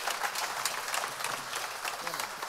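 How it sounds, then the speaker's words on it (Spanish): A conference audience at an agri-food and finance forum gives its speakers a round of applause, steady and fairly faint as if heard from a distance, with some voices mixed in. "yo creo que se merece un aplauso a nuestros ponentes"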